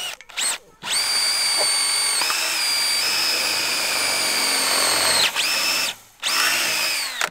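A power drill whirs loudly in several long bursts while installing a 3D panel fence, its pitch dipping under load, with brief pauses between runs.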